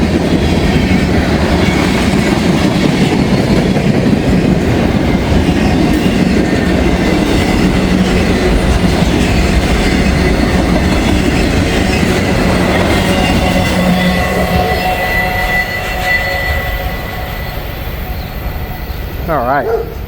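A train passes close by with a steady heavy rumble and clattering wheels, loud throughout and easing slightly toward the end.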